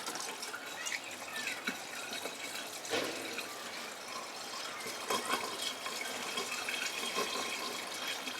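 Coolant pouring through a large funnel into a Duramax diesel engine, a soft, continuous trickling and gurgling fill with a few splashy surges, faint and close.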